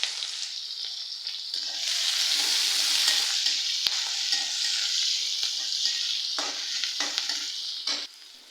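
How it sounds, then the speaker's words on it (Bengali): Chopped onion and green chilli fry in hot oil in a kadai, a loud, continuous close sizzle with scattered stirring clicks that drops away abruptly at the end. "আর এখানে কড়াইতে আমি আগে তেল দিয়ে দিয়েছিলাম। আর এখন আমি পেঁয়াজ কুচি আর কাঁচামরিচ কুচি"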